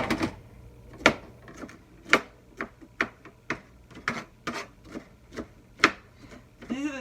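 Knife dicing zucchini on a board, a steady run of crisp chopping taps, close and fairly even in rhythm, with no talking.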